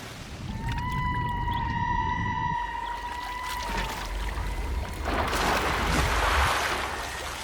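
Killer whales call underwater in open ocean, a long whistling tone with harmonics sliding over a rushing water background, followed by a burst of bubbly noise, with no voices.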